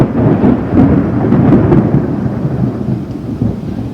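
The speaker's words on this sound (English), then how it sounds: "So can you hear the thunder?" Thunder rumbles deep and loud through a summer thunderstorm, with a steady wash of rain underneath, sustained and rolling without a break.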